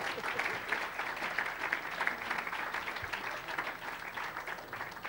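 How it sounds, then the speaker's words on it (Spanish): Sustained audience applause at an Aragonese sports forum welcoming the president of CAI Zaragoza, a dense even wash of many hands clapping in a hall, steady and moderately loud for the whole stretch with no voices. "Y vamos a recibir con un fuerte aplauso a Reinaldo Benito."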